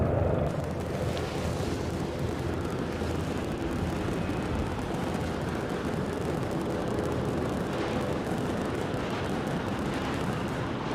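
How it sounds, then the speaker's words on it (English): A fireworks sound effect on an Aberdeen airport plane-spotting livestream makes a continuous loud rumbling roar of crackles and booms that lasts about eleven seconds without a break, and no voices are heard. "Fireworks for George."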